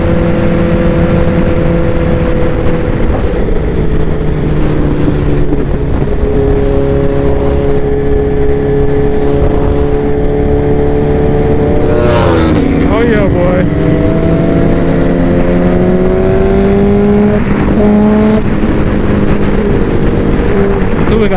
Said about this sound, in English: I hit the throttle and it's just like